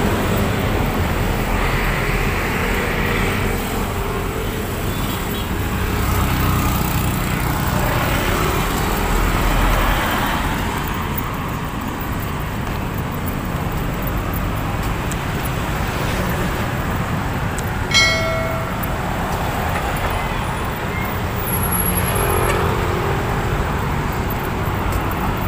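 Steady street traffic with buses and traditional jeepneys near Quiapo Church in Manila, a loud continuous roar of passing engines with a brief higher whine midway and no talk.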